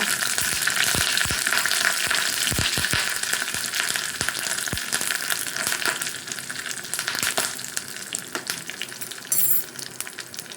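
Curry leaves and tempering spices sizzle and crackle steadily in hot oil for a horse gram leg soup, with sharp pops and a loud, continuous frying hiss throughout and no voices.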